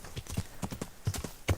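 Horse hooves clip-clop in Kingdom Come: Deliverance, a brisk, close, irregular patter of hoof strikes in quick succession over a short stretch.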